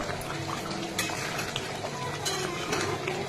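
Raw mustard oil being worked into koi fish by hand in a bowl, a steady wet squelching and slapping texture with faint scattered clicks, close and continuous with no talking.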